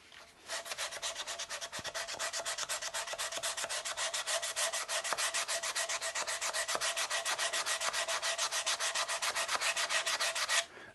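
Hand sanding on a wooden guitar body during finish preparation, with rapid, steady back-and-forth rasping strokes of sandpaper at close range, continuous and even for about ten seconds.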